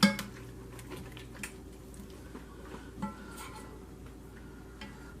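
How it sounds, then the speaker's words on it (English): Mac and cheese sauce stirred in a pot on low heat, with a spoon clinking against the metal several times, starting with a louder scrape and followed by faint scrapes and taps. "Give the sauce another stir."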